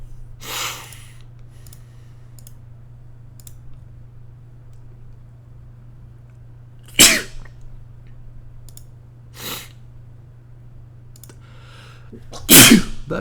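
A single human sneeze bursts out sharply near the mic, followed by a second loud sneeze later, with quiet sniffs and clicks between over a low steady hum.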